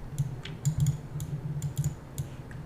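Keys on a computer keyboard clack in an irregular typing rhythm, a quick run of close, crisp taps with short gaps and a steady low hum underneath.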